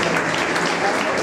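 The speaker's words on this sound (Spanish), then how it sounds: "el aplauso fuerte y bonito para ellas" Dense, loud applause from a crowd at a CD launch presentation, steady clapping filling the whole short stretch.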